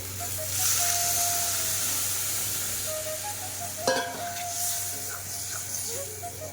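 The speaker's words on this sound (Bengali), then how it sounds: "মাছগুলো ভেজে রেখেছিলাম মাছগুলো দিয়ে দিব আর পরিমাণ মতন জল দিয়ে দিব" Fried amudi and lote fish with water added to a hot pan for a Bengali fish curry, giving a steady close sizzle with stirring clatter and a sharp utensil knock midway.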